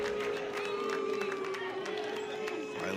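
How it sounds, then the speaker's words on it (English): Oklahoma fans in the stands at a college softball game against Seattle keep up the sustained Boone chant, a steady crowd roar with a held vocal tone running under the broadcast. "You hear the Boone chants there from Oklahoma fans."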